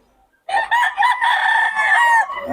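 A rooster, one of Boss Russell's fighting cocks, lets out a single loud, close crow lasting about two seconds, starting abruptly after near silence.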